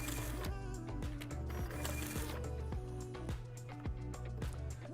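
A Zebra ZT600 label printer running in peel-off mode gives a steady mechanical whir punctuated by quick, regular clicks and ticks, close and continuous for several seconds without speech.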